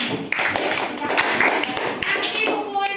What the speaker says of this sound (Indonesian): Ya, tepuk tangan untuk Mas Suryani.